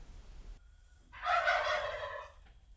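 Backyard chickens make a burst of clucking and squawking at close range while eggs are gathered from the coop, loud for about a second and then trailing off, with no talk over it.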